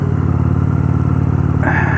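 A Honda Shadow motorcycle's engine thrums steadily and close while riding, with a loud, even pulsing drone that brightens near the end as the revs rise.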